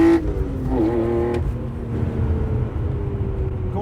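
A BMW E46 M3 with a Supersprint exhaust drives close by, its engine note rising through a quick rev and shift, then settling into a steady, loud cruising drone.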